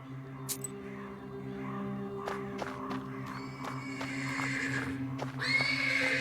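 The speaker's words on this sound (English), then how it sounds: "The persistent neighing of a horse can be heard from the stables." Persistent neighing of a horse from the stables in the video game Black Book, repeated whinnies over a steady low ambient drone, with clip-clop steps toward the end and no talk.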